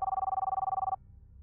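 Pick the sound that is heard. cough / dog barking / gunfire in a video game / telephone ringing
telephone ringing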